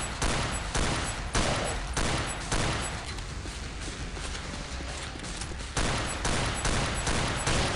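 Rapid, dense gunfire from the video game Killing Floor crackles in loud sustained volleys, easing to a thinner spatter midway before heavy firing resumes.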